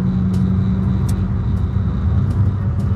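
A Honda Civic Si drives along a potholed road, its steady low engine and road rumble carrying throughout, broken by a few brief bumps and rattles.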